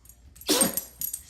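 A dog gives a single sharp, breathy sneeze, close and fairly quiet, followed by a couple of soft snuffles.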